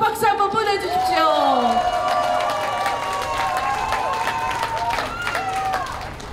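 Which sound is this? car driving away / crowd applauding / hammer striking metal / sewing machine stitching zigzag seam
crowd applauding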